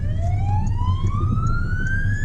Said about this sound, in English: emergency vehicle behind